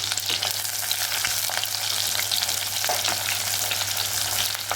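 Small onions hit hot oil with fried fenugreek seeds for a fish curry, producing a loud, continuous close sizzle with occasional stirring crackles.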